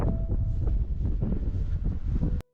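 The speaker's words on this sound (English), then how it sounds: "it's a little windy on the riverbank" Steady wind buffeting a microphone on a riverbank by the River Trent, a constant low rumbling roar that cuts off abruptly at the end.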